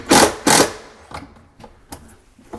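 An impact driver drives screws into wood during a house renovation, opening with two loud, close buzzing bursts, then a few fainter short rattling impacts.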